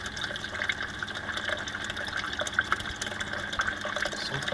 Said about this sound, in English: adjusting this ball valve, I can adjust the flow of water to the top tank